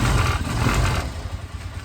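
A three-wheeled motorcycle engine runs up close with a steady, rough, clattering rumble that eases slightly toward the end.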